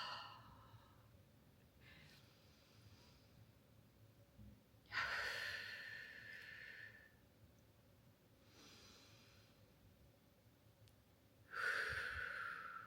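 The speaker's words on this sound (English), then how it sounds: "so I'm going to take a couple of breaths." A person takes a couple of deep breaths in a quiet room: two clear, fairly close exhaled sighs several seconds apart, with softer breathing between them and no talking.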